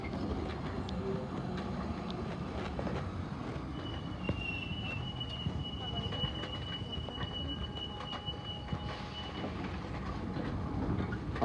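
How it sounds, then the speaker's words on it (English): London Underground train running between Rayners Lane and Cockfosters, a steady loud rumble of wheels and motors with rail squeal rising midway and fading, heard from inside the carriage throughout. "Here is a train for what could be the remainder of the journey towards Cockfosters."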